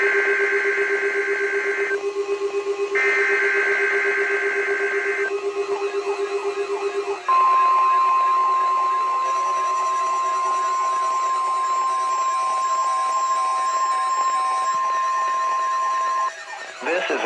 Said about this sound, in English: This is a test of the National Weather Service's NOAA Weather Radio Warning Alarm System